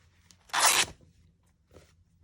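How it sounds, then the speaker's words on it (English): A single sharp rip of paper torn for a journal cover, close and crisp, lasting under half a second, followed by a faint rustle; no talk. "All right, so let's rip it."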